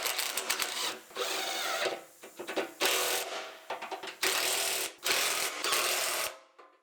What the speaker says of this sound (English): So now we're just going to bolt it up.